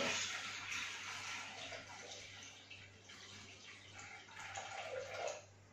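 Water is poured into a Thermomix while making a rice salad, a soft, fairly faint splashing and gurgling stream that swells and fades over several seconds.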